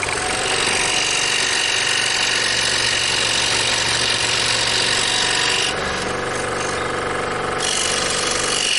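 A DeWalt 788 scroll saw cuts a V shape into wood with a loud, continuous, rapid buzzing chatter close by that briefly changes tone partway through and then resumes.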